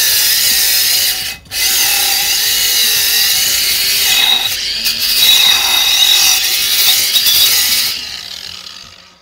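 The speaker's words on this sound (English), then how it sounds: "So you want to just use a flap disc and take that sharp edge off." Flap disc on an angle grinder smoothing a sharp cut edge inside a steel fire extinguisher shell, a loud close high-pitched grinding whine with a brief dropout early and varying pressure before it winds down.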